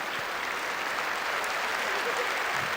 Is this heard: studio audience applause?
yes